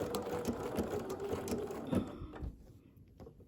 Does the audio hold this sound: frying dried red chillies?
no